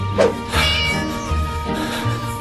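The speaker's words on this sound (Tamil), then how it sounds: "ஐயோ பூனை." A cat meows loudly and close in the Scary Teacher video game, with a few drawn-out, wavering cries following one another and no talking.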